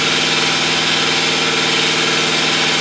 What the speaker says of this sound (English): So now you hear it filling up with air.